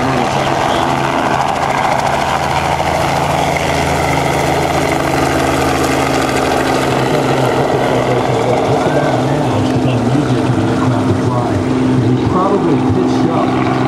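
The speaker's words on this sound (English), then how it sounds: "Robinson R44 now departing is a little different than the other aircraft here" A Robinson R44 helicopter with a reciprocating piston engine departs at a rotorcraft show. Its dense, loud engine and rotor drone runs throughout, with a rhythmic thump growing in the latter half, and a voice talks over it.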